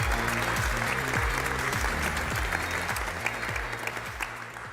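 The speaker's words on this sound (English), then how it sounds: "A big round of applause, please." An audience at a technology awards event claps loudly and steadily throughout, a dense wash of many hands with no voices rising above it.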